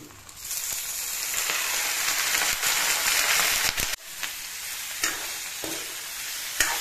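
Pork frying in a pan with ginger garlic paste, a loud continuous sizzle that drops sharply partway through, then quieter frying broken by a few scraping stirs, close up and without voices.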